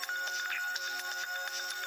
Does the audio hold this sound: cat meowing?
no